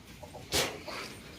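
A rooster tied up near a peacock on a farm gives one short, sharp, close cluck amid quiet outdoor ambience.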